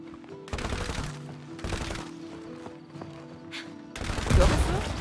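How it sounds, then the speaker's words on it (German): Shooting in the co-op video game It Takes Two, with bursts of rapid gunfire recurring through a busy game soundtrack, the last burst loudest, while people talk. "Du musst den Weg hier freischießen."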